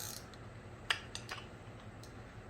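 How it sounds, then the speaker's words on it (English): Wrench turning a brake caliper piston compressor tool during 2014 Nissan Altima front brake work, giving a few faint, sparse ratcheting clicks that are close and quiet. "as you tighten or loosen, spreads the clamp apart, push that piston back in there"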